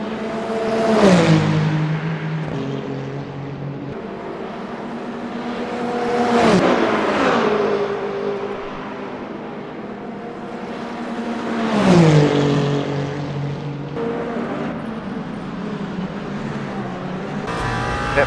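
A Ferrari race car engine at Le Mans roars up through the gears in Le Mans Ultimate, with repeated rising revs and sharp drops at each shift, loud and steady throughout.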